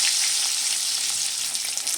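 Pieces of shol fish (snakehead) sizzle in hot oil after being flipped, a brief, steady, bright hiss of frying close by, with no talking.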